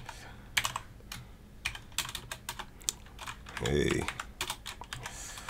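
Typing on a computer keyboard, quiet and close: irregular bursts of clicking keystrokes with short pauses, a soft spoken word, and a brief rustling thud near the end.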